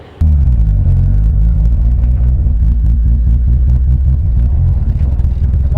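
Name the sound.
700hp Mazda RX7 Series 3 street car driving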